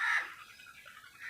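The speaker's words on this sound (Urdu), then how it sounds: "مختلف پرندوں کی چہکار" A brief, bright bird call at the start of a quiet morning, then fading into soft outdoor stillness.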